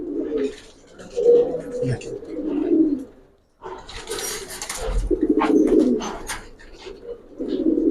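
Giribaz pigeons, silver and old breed lines, coo repeatedly in a loft, with low soft cooing running almost throughout, a short pause near the middle, and voices talking faintly over the birds.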